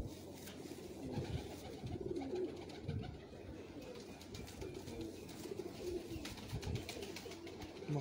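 Pigeons coo continuously in soft, overlapping low calls, nearby and steady over eight seconds, with a faint background hum.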